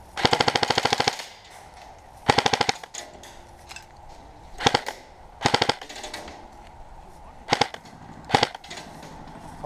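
Airsoft guns fire during an outdoor airsoft match, with about six loud, rapid full-auto bursts separated by short pauses and close to the listener.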